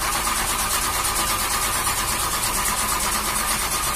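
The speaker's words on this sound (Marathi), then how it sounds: "इंजिनचा घरघरट होत गाडी सुरू झाली" A car engine turns over and runs with a steady, loud mechanical rumble throughout, close by and continuous, with no voices.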